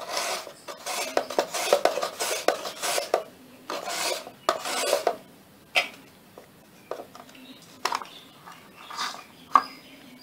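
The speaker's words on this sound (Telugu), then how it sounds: "ఎండు కొబ్బరి బెల్లము తురుముకున్నాము" Dry coconut and jaggery are grated by hand in repeated rough rasping strokes, close and moderately loud, with short pauses between bursts.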